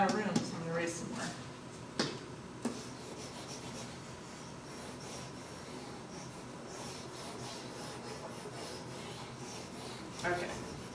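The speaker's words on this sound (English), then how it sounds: "I'm going to run out of room, so I'm going to erase some more." A whiteboard is erased during a math review: faint, soft rubbing strokes at low volume with a few brief knocks, and a voice speaks over them.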